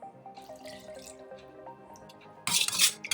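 Water trickles and drips into a pani puri mix in a kitchen, starting soft and sparse, then a louder splashing pour near the end, with no talking.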